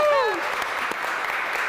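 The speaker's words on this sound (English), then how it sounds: "give her a round of applause" A studio audience at a morning talk show applauds steadily after a voice trails off at the start, the clapping filling the rest evenly at moderate loudness.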